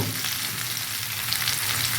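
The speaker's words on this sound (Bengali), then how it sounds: "লবণটা তাহলে আরও একটু ভেজে নেবো" Raw mango pieces frying with salt in a pan give a steady, close sizzle with faint stirring throughout.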